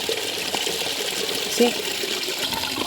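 Steady flow of water running from a hose partly blocked by a stone, a continuous close wash of sound, with a voice speaking briefly over it.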